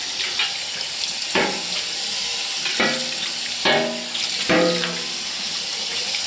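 Running water from a tap splashes steadily while soapy items are rinsed off, with several clattering knocks and handling sounds breaking through the continuous flow.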